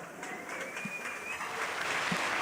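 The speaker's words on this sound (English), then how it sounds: "Big cheers and lots of clapping." Cheering and clapping in the Jupiter control room during the first Ariane 6 launch: a steady wash of many hands applauding at a moderate distance, with faint whoops mixed in and no clear speech.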